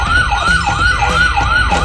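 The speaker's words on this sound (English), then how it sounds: "This is a fire truck." A toy fire truck's electronic siren wails loudly and steadily, rising and falling in a fast, regular cycle with no other sounds.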